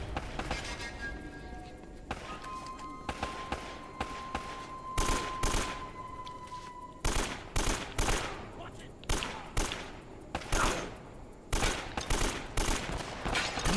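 Bursts of gunfire from Uncharted: Drake's Fortune, scattered single shots and rapid volleys hitting hardest in the second half, over ambient game sound with a voice talking in the background.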